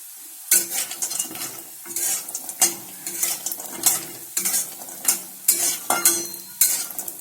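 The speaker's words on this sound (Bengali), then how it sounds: "এই তেলের মধ্যে আমি বড়িগুলো ভেজে নিচ্ছি।" Lentil dumplings (bori) frying in hot oil, sharp bursts of sizzle rising and falling in a regular rhythm as a spatula scrapes and stirs the pan, loud and close with no talk.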